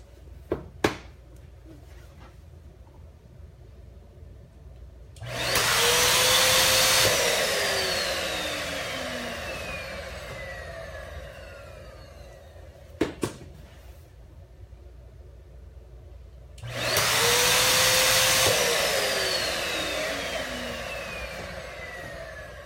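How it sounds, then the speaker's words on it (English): An electric balloon inflator whirs on in two long bursts while balloons fill, each run rising then tapering as the balloon stretches, separated by quieter gaps with a few clicks. "So we're just going to keep inflating."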